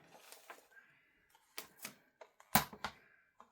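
A paper trimmer slices a crafting page with a few quiet, sharp clicks and scraping snaps spaced out over a few seconds, heard close and alone in a hushed room.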